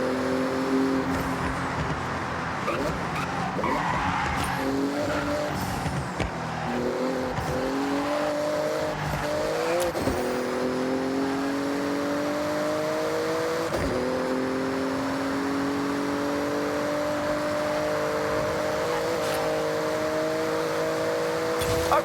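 A Porsche accelerates hard through a speed zone in the Forza Horizon 6 racing game, its engine roaring loud and close and climbing in pitch through repeated gear shifts, with brief tire noise and no talk over the sustained drive.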